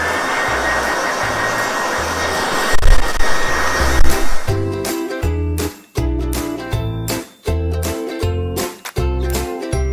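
A hair dryer blasts continuously during a blow-out, pre-drying a mannequin's damp hair, a loud steady roar that later cuts in and out in uneven pulses as the airflow shifts, with no talking.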